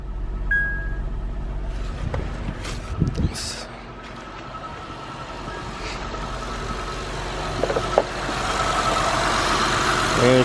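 A car engine with a Japanese motor idles steadily at about 1,000 rpm with a low, continuous rumble, close by, with a few faint clicks and knocks over the hum.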